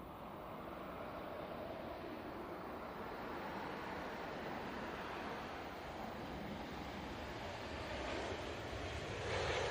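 An EasyJet airliner arriving at Manchester Airport gives a steady, broad engine roar that holds at a moderate level throughout, growing slightly louder near the end, with wind noise mixed in and no talk.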